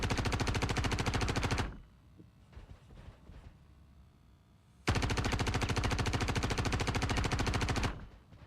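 Sustained automatic gunfire in the video game Star Citizen, two long loud rapid bursts separated by a quieter gap with faint clatter, heard alone without talk.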